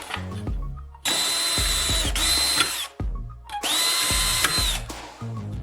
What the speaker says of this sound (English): Take a small section of metal profile and drill 2 holes in it.